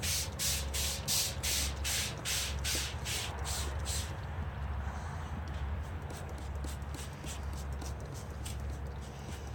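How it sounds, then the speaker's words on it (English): Rapid spritz bursts from a spray bottle misting liquid onto tin foil wrapped around a pork butt for pulled pork, a quick run of about a dozen close hisses followed by steady rustling and handling noise. "We'll even spray the tin foil a little bit."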